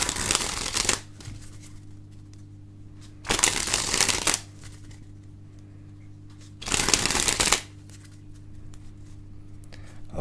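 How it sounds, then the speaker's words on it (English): A deck of playing cards is sprung from one hand to the other three times, each a loud, dense riffling burst of about a second, separated by quiet pauses with a faint steady hum underneath. "here's a tutorial on how to spring a deck of cards"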